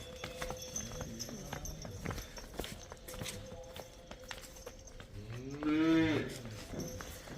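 Dairy cows moo loudly nearby over a steady farmyard background, with hooves clopping and shuffling footsteps throughout.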